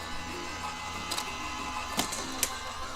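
A Sizzix die-cutting machine runs a plate through, a low mechanical grinding hum with a few sharp clicks and creaks, fairly quiet and close.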